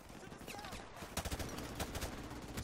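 Gunfire in Call of Duty: Modern Warfare Remastered, a rapid stream of automatic shots and crackling bursts heard at moderate volume with game noise behind, continuing throughout.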